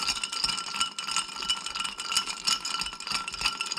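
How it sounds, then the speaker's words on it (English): Ice rattling as a cocktail with fresh lemon juice is stirred in a beaker, a steady close clinking and jingling rhythm at moderate volume with no voices. "stir until the side of the beaker feels just right."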